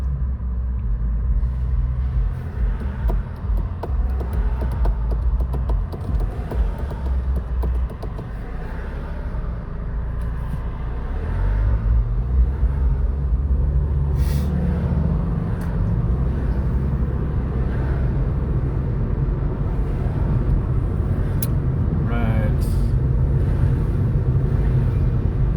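Steady low rumble of road traffic building up around a car on the drive home after work, engine and tyre noise swelling a little past the midpoint and staying dense, with no talking.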